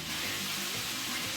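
Vegetables and vegan sausages frying with spices in a pan give a steady, close hiss of sizzling oil, continuous and even throughout.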